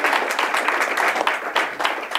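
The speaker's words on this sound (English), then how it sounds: "I want us to give a warm round of applause to both Professor Doe and John Stoner" Audience at a policy talk clapping, a short burst of scattered, uneven handclaps from a modest crowd with no talking over it.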